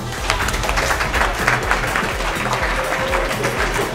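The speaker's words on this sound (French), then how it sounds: "Vous pouvez vous applaudir." A crowd at a card game tournament applauds itself, with steady dense clapping filling the hall, fairly loud and close, with murmuring voices underneath.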